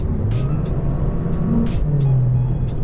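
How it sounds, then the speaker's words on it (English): Engine hum of a VW Golf GTE with the middle and rear exhaust sections removed, a steady low drone heard from inside the car, with short sharp exhaust pops and crackles breaking through at intervals. "you can hear some pops. You can hear the engine"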